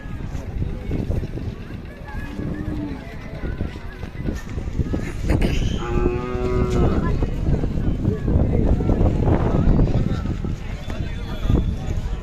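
Khillar cattle low and moo amid a busy outdoor crowd at the Sangola cattle market, with people talking steadily throughout and a few drawn-out calls standing out in the middle.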